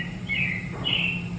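Robins in the animatronic Carousel of Progress show at Walt Disney World's Magic Kingdom give two short chirping phrases a moment apart, moderately loud over a steady low hum of the theater.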